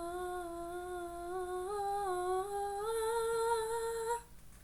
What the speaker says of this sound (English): That's the sound of her voice leaving her body.